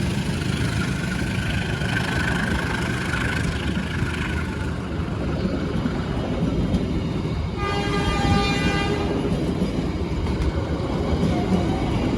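A commuter train passing near Merak, Indonesia, rumbles steadily nearby with a broad, continuous roar, and a stretch of high squealing or whistling tones rises over it near the end.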